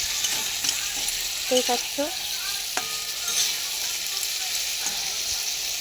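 Potato, onion and spice masala sizzles steadily in a pan while a utensil stirs and scrapes it in short bursts, with a few words of speech over the frying.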